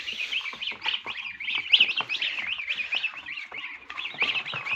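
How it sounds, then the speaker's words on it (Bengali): Goslings, alongside turkey chicks, are let out to graze on short grass, giving a steady run of high, rapid peeping calls that continues nonstop, close and fairly loud, with no talking. "এখানে একটা হাঁসের বাচ্চা আছে"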